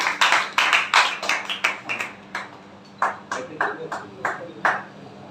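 An audience at a Hindi kavi sammelan applauds to welcome a poet, giving bursts of close, uneven clapping in several waves with brief pauses between them.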